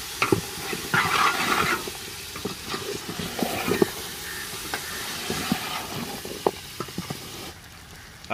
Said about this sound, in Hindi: तो अभी इनको मसाले के अंदर थोड़ी देर के लिए भूनेंगे हम।